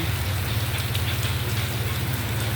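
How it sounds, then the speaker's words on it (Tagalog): Steady rain falls with wind during Typhoon Kristine in Pampanga, a dense, constant wash of drops on surfaces with a low rumbling undertone, continuous and close throughout. "Buti dito sa Pampanga, hindi masyadong malakas ang ulan, saka hangin."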